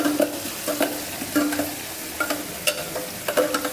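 Garlic goes into hot oil where ginger paste is already roasting, making a close, lively sizzle with irregular stirring clacks and scrapes of a spoon against the pan.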